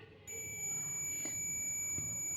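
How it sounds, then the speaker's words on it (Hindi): A multimeter in continuity mode gives a single sustained high-pitched beep as its two probes touch, starting abruptly and holding steady and close for about two seconds. "मल्टीमीटर का दोनों प्रोब आपस में जब सटाएंगे तो बीप का आवाज़ आएगा"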